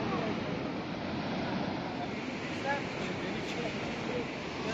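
Beside Niagara Falls, the waterfall makes a deep, continuous rushing roar, broad and steady, mixed with buffeting wind noise on the microphone.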